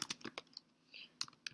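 Someone types an answer on a computer keyboard: quiet, close key clicks in an uneven rhythm, a quick cluster at the start, a short pause, then a few more taps, with no talking.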